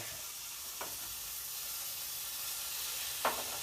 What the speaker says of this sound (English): Now that sizzle is just sexy.